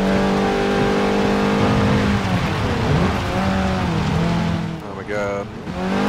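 Race car on a wet track in Forza Motorsport 7, a loud engine revving with sweeping pitch rises and drops through shifts, ending in a sharp climbing rev, with someone talking over it.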